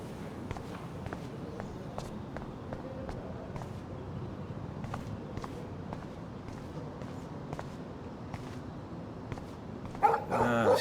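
A dog barks in the video game Life Is Strange, faint, short yaps scattered over quiet footsteps and low background ambience, with a louder burst near the end.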